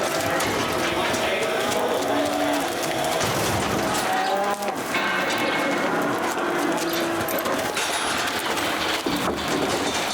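Cattle lowing at a livestock auction where sold animals are sorted into pens, the moos drawn out and overlapping amid continuous loud barn and crowd noise with faint voices.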